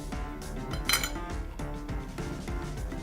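A knife slicing into a cooked filet mignon steak on a plate, soft metallic scraping and a light clink against dishware, close and quiet with no talking.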